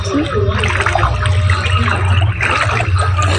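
Floodwater rushes through a village at night, a loud, continuous churning flow with a low rumble throughout, with a voice speaking over it.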